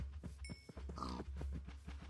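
Pigs in the block-building game Minecraft grunt in a few short, low snorts, with a brief bright chirp mixed in. The sounds are soft and close against a quiet game background.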